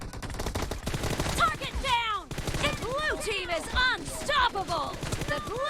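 Rapid bursts of gunfire crackle in the mobile battle-royale game PUBG Mobile, sharp repeated shots running through the whole stretch beneath excited talking.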